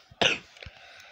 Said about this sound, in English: I'm a bit sick, so I might be coughing a bit.